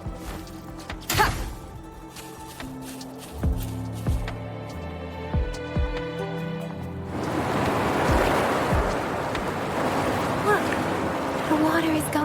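Water drains away in the video game Wuthering Waves, with a steady rushing wash swelling in the second half after a stretch of sparse clanks, thuds and game-effect tones.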